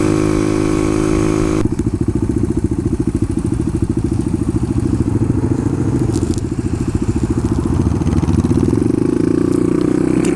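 A Suzuki DR-200 motorcycle engine runs steadily while riding, its loud, rapid low-pitched thumping close and continuous, with a brief harsher rumble at the start and the engine note rising slightly near the end.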